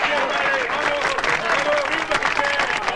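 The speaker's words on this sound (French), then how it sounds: "Allez, les gars, on l'applaudit." A group of young men in a 1989 French film scene clap for someone; brief, fairly close applause from a small group, with voices talking over it.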